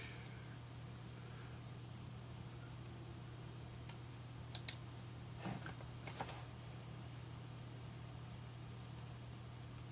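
A computer mouse gives a few faint, quick clicks in a brief cluster over a quiet room hiss.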